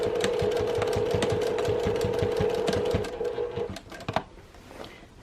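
A sewing machine back stitches a seam on a one-yard utility apron, running at a steady rapid whir for about three and a half seconds before stopping with a few soft mechanical clicks, with no talk.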